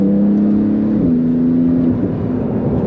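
A 2018 Porsche GT2RS engine pulls hard at quarter throttle while short shifting, a loud, steady close-up drone whose pitch climbs, drops at a gear change and climbs again.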